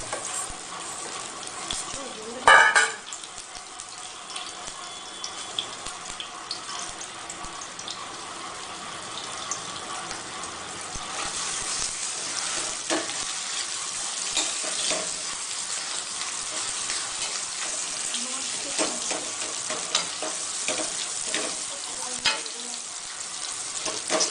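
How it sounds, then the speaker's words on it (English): Potatoes cooking in ghee for aloo halwa, stirred in a pan. A steady sizzle runs throughout, with a sharp clatter early on and soft scraping stirs, and faint low talk in the background. "Add the potatoes. And stir it well."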